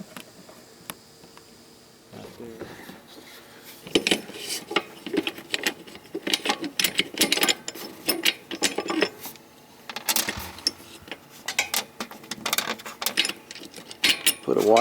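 Metal clicks, scrapes and clanks as a bracket slides along and hooks onto an ARB roof top tent mount, a busy run of close, sharp knocks over low background noise.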